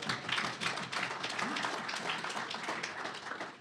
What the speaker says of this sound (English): how about a round of applause for the Mossad?